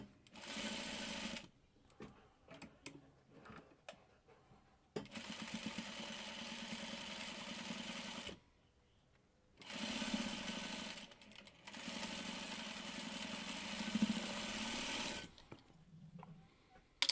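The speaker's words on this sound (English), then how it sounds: "And we sew down the middle." Sewing machine running in several bursts as two quilt block pieces are stitched down the middle for a Delectable Mountains block, steady close whirring with short pauses between runs.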